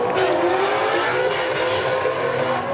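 Cars drift side by side at a drift event, loud high-revving engines wailing and shifting pitch with tire noise, sustained and fairly close throughout with no talk.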